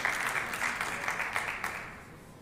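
Crowd applause at the CEB European Championships 2023 artistic billiards final in Turkey: a steady, dense clatter of clapping that fills the whole stretch at an even level, with no voices on top.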